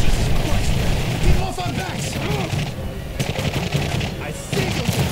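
Rapid gunfire in the video game Darkness II, continuous bursts of shots layered with game noise and action sounds, while players talk loudly over it.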